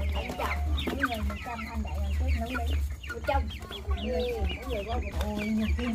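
A flock of chickens clucks and cackles continuously nearby, over a steady low hum of background noise.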